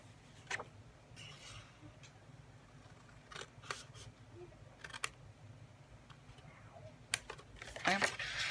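Small Tim Holtz scissors snip through paper for a box envelope in short, quiet cuts scattered across the clip, with a rustle of handling near the end and low background hum.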